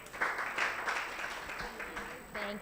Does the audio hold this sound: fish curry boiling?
no